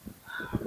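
Geese on a farm honk during a storm with strong wind, a few short nasal calls rising near the end of the clip over rough, gusty background noise.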